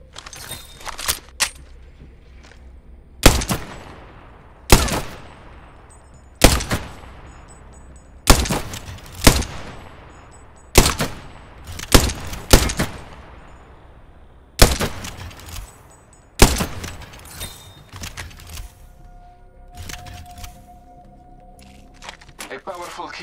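Gunfire in the shooter game Apex Legends comes as loud, sharp shots and short bursts spaced across the stretch, each ringing out with a decaying tail, with quieter game noise and talk between them.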